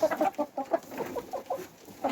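Several chickens clucking close by, a quick irregular run of short throaty clucks and murmurs overlapping one another.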